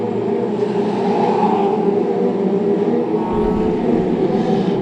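Brisca F2 stock cars circulate on a shale oval at Cowdenbeath racewall, a steady droning roar of several engines heard at a moderate distance with no voices over it.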